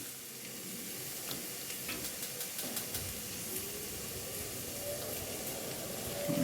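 Stuffed marrow filling cooking down in a pan, giving a steady, soft sizzle and hiss with faint bubbling that runs throughout at low, even volume, with no talking.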